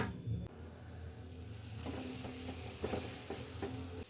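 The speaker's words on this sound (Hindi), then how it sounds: "पराठा जी मैंने डाल दिया है, अब लगाती हूँ इसके ऊपर घी" An aloo paratha cooking with ghee on a gas griddle, a steady close sizzle and crackle with soft scraping and tapping from a utensil.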